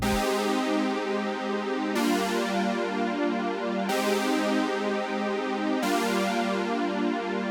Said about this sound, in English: I start with this simple chord progression